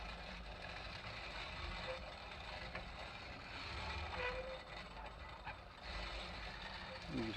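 Hand-cranked egg shell grinder turning its auger with shells in the hopper, giving a continuous low grinding, ratcheting mechanical noise with faint crunching, fairly quiet and close.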